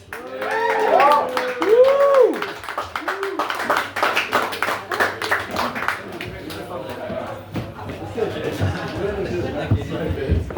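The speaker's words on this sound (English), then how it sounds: "Give a round of applause for Max." A small audience at a late-night poetry recital clapping for a poet, scattered close hand claps and cheering voices at first, then lighter clapping mixed with chatter and talk.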